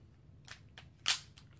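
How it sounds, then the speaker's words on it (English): A Smith & Wesson Bodyguard .380 pistol's magazine released and popping out: a few faint clicks, then one crisp snapping pop, close up and quiet. "it has one of the most positive magazine release ejections I've seen. it really just pops out just like that"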